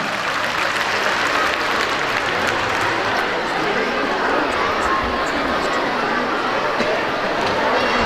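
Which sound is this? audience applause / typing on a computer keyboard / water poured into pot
audience applause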